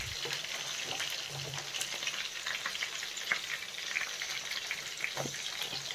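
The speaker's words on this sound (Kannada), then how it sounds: "ಆದಷ್ಟು ಲೋ ಫ್ಲೇಮಲ್ಲೇ ಫ್ರೈ ಮಾಡ್ಕೋಬೇಕು ಇದನ್ನು." Stuffed capsicum fries in a pan over a low flame, a steady close sizzle and crackle with a few light scraping stirs, heard alone.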